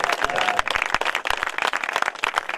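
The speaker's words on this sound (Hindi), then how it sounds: "एक बार तालियां बजा दें आप लोग" A crowd applauds at a Hindi poetry gathering, with dense, lively clapping sustained throughout, close and fairly loud.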